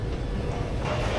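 Low, heavy rumble of a London Underground train near the Down Street sidings, a continuous rolling roar of wheels and motors filling the space, loud and close.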